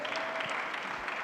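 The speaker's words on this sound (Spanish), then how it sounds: "Un aplauso, por favor, a los panelistas." Audience applause for a panel discussion, a dense, steady patter of clapping filling the short moment without any voices.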